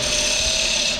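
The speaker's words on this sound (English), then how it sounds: "I'm going to use a skew chisel just as a scraper like so" A skew chisel held flat on the tool rest scrapes a spinning wooden bowl on a lathe, giving a loud, continuous hissing rasp that stays steady and close with no talk.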